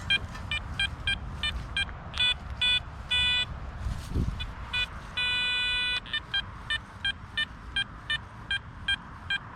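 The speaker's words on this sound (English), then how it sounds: "Sorry about all the traffic noise in the background." Road traffic hums steadily in the background at a UK metal-detecting dig. Over it, a detector sounds a regular series of rapid electronic beeps, and one car passes close by midway through.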